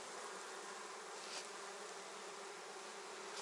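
Honey bees hum inside a hive during spring colony buildup, a dense continuous buzzing that stays close and steady throughout with no voices.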